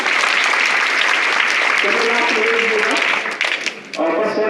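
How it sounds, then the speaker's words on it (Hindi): A crowd applauds loudly and steadily, dense clapping at close range that fades briefly near the end, with voices heard faintly underneath. "इनके लिए जोरदार ताली बजा दीजिए।"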